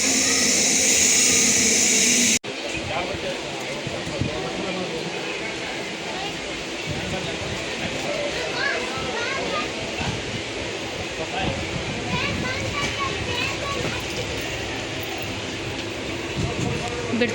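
The Bijapur train rolls into a railway station with a steady, loud rumble and clatter that fills the whole stretch, after a brief burst of different noise at the very start.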